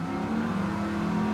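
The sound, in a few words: touring car engine revving in a racing video game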